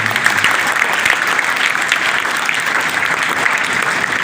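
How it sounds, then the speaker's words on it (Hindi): Children at a school gathering applaud loudly together. The clapping is dense and sustained from start to finish, close and even, with no speech over it. "एक बार जोरदार क्लैपिंग उनके साथ होनी चाहिए"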